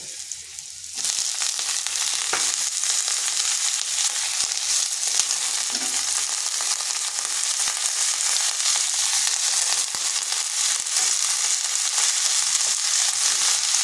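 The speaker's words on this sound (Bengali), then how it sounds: "এইভাবে বেশ কিছুক্ষণ কপিটাকে ভেজে নিতে হবে।" Chopped cabbage fries over high heat, a dense, continuous loud sizzle with faint stirring underneath, steady throughout with no talk.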